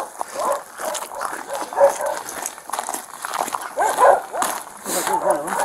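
Feral dogs and puppies in Montezuma County yip, whimper and bark in short, scattered bursts at close to middle distance, with people talking over and between them.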